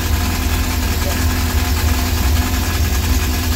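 A Yamaha FZS 1800 SHO jetski engine fitted with a freeflow muffler rumbles at a steady idle close up, a loud deep throbbing drone with a faint hum above it.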